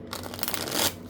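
Rapid papery riffling of a large tarot card deck being shuffled, a steady flutter of cards close by that swells briefly before ending, with no voice.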